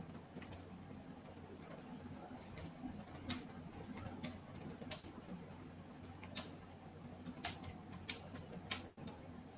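Someone types on a computer keyboard, a steady run of soft, irregular key clicks with a few sharper, louder taps, close by in a quiet room with no talking.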